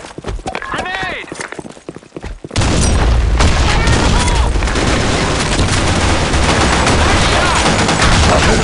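A loud grenade explosion in a first-person shooter video game bursts in after a few seconds, followed by dense, continuous gunfire and blasts. Scattered clicks and a shouting voice come before it.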